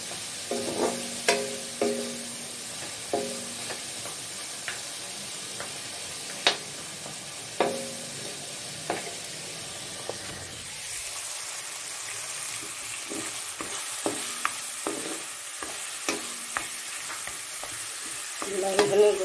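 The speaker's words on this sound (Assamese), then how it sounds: "মাছৰ মাথা দুটা একেলগে ইয়াতে অলপ ভাজি লওঁ" Two fish heads sizzle in hot oil in a pan, with repeated sharp scrapes and clinks of a spatula stirring them, alone and close, with no talking.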